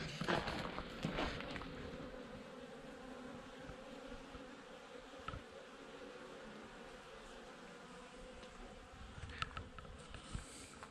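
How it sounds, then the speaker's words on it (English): A dense, steady buzzing of many honeybees gathered around water fills the air, close and continuous, with occasional faint taps and rustles beneath the drone. "Wow, that's a lot of honeybees."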